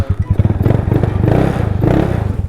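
Yamaha Aerox scooter engine putters in rapid pulses, then revs up into a throaty, rising drone before dropping back to a fast chugging idle, close and loud.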